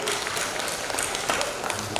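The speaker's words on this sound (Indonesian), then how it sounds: "Kita beri tepuk tangan Bapak Ibu" Wedding guests clap for the bride and groom, a continuous, moderately loud patter of many hands with scattered sharper claps throughout.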